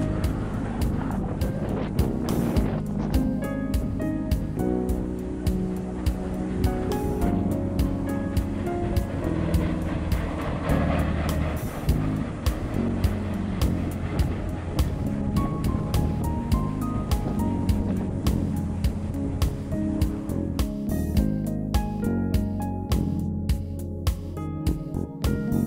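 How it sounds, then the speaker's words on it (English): CN freight train CNQ193, carrying intermodal stack cars and auto racks, rumbles past on the Three Hills subdivision in Alberta, a loud, sustained roar with rattling cars and tonal squeals that carries on for the whole stretch with no talking. "Soon after, our train came through."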